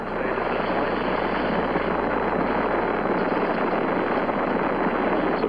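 The Saturn V rocket lifting off on the Apollo 13 launch, a loud, dense, continuous broadband roar with a steady rumble and no break, heard alone at a distance.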